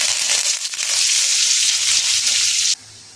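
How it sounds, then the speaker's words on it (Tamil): Mustard seeds spluttering in hot oil for a urad dal and tomato chutney, giving a steady close crackling sizzle with dense fine pops that runs continuously, then stops abruptly near the end. "கடுகு போட்டுக்கலாம். கடுகு நல்லா பொரியட்டுங்க."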